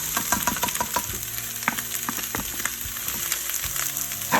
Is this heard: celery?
yes